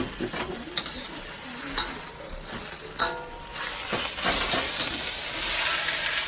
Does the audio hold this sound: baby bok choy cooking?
yes